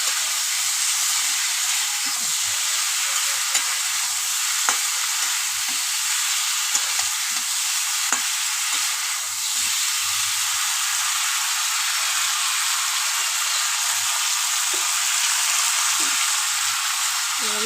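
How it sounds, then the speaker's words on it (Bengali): Ingredients fry lightly with salt in a hot pan, giving a constant, even sizzling hiss throughout, with occasional small clinks and stirring noises beneath. "দিয়ে আমি হালকা একটু ভেজে নেব"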